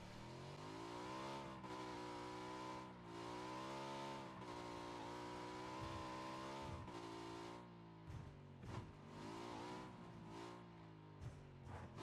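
A vehicle in the PUBG battle royale game drives steadily, its engine droning with gear-shift dips and revs across the whole stretch, loud and continuous with occasional bumps and impacts near the end.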